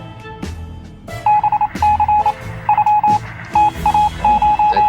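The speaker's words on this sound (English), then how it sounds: "It sounds like Morse code." Radio signal in the video game 60 Seconds Reatomized: a series of clear Morse code beeps, short and long tones in an irregular rhythm, loud and close over a low background hum, with a few thuds early on.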